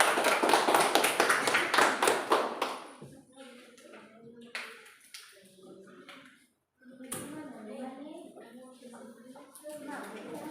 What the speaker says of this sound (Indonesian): Silakan tepuk tangan untuk kelompok 2 dulu.